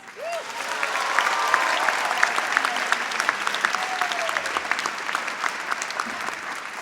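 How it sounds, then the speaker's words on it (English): Graduation crowd at Schenectady High School's 2018 ceremony breaks into a big round of applause, swelling quickly into dense, continuous clapping with a brief cheer at the start, then holding steady and slowly thinning. "can I hear a huge round of applause?"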